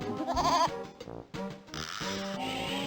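A goat in the Putt-Putt video game bleats twice, close and loud, with wavering cartoonish calls separated by a short pause.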